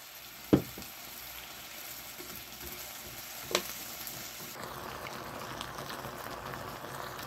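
Thin-sliced lotus root simmering in water with soy sauce and sesame oil, a low, even bubbling and gentle sizzle. Two sharp knocks sound near the start.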